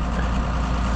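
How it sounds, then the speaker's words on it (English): Bulldozer engine working up on top of a hill while clearing steep banks for pasture, a steady low heavy diesel rumble with constant drone, continuous and fairly loud with no voices. "Bulldozer's working away up on top of the hill up there."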